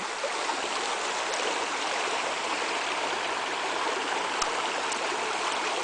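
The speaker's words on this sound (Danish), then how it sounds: "Med en dejlig lille flod." A small mountain river outside Athens flows past a camp, a steady, full rushing and trickling wash that continues unbroken, close and fairly loud, with no voices.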